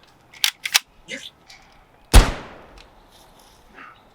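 Gunshots ring out in a few sharp cracks, the last one loud and booming with a decaying echo, set among clicks, thuds and voices speaking.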